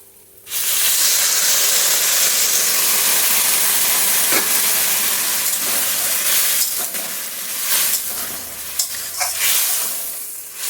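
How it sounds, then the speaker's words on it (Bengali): Water poured into a hot pan over a raised gas flame while cooking lentil fritters sets off a loud, steady hiss of steam and sizzling that holds for about ten seconds, with no talking. "দিয়ে দিচ্ছি জল।"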